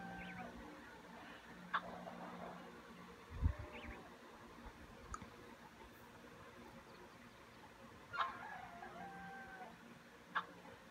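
A chicken in the Tiny Thief video game gives several short, scattered clucks over soft game background sound, with one low thump midway.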